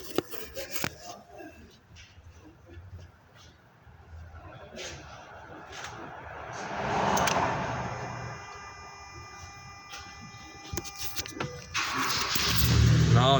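A Mazda 6 or Mazda 3 with a crank-no-start fault from a coil ground problem cranks with the ignition on, a rising mechanical churn swelling mid-clip and again near the end, with clicks and handling noise around it.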